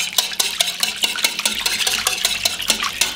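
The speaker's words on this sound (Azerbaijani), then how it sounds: "Bunları da bu cür yaxşı-yaxşı qarışdıracağım." A whisk or spoon beats butter, sour cream and an egg together in a bowl for a xachapuri dough, clicking against the sides in a quick, steady rhythm with no voices.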